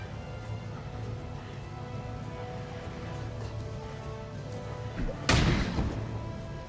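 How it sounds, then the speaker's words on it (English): A knockdown grenade detonates in the turn-based game Lamplighter's League, a single sharp, loud blast near the end that rises sharply over steady background music and gameplay sounds. "I throw my knockdown grenade on this guy"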